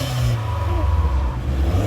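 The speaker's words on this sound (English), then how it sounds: "Kice is revving it for you guys." A 2018-2021 Honda Accord Sport engine revs at a car meet, a loud, close, throaty drone that swells and holds with some clattery texture.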